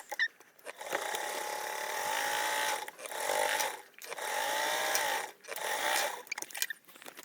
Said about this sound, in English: we're sewing this together with a 3/8 seam allowance